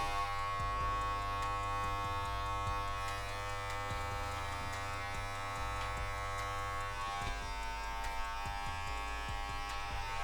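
Electric beard trimmer with adjustable blade length cutting through a beard, a steady close buzzing drone held for the whole stretch with slight dips as the blade moves across the face.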